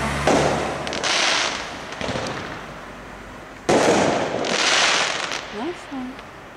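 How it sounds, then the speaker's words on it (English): Fireworks go off on Hyde Park Road in Leeds on a November night, two loud sharp bangs each followed by a long crackling, fizzing tail, with distant voices and street noise between them. "Fireworks on Hyde Park Road in Leeds. Bang bang."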